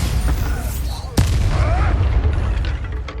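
A Bombarda spell explosion in Hogwarts Legacy lands as a sharp, loud blast partway through, set within a roaring, booming combat din with more crackles and impacts around it.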